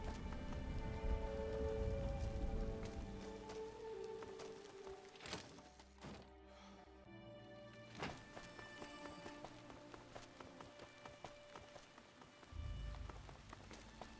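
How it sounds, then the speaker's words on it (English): Steady rain falls in the game Fallout: A Tale of Two Wastelands, a soft continuous patter over a low ambient hum with a few scattered taps, faint and distant, no voices. "Whenever I turn up somewhere walking, it starts to rain."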